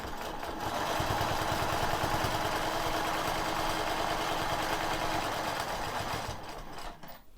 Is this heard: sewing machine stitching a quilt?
yes